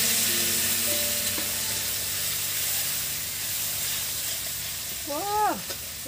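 Garlic frying in hot oil with cumin, a steady broad sizzle running throughout with a brief voice near the end.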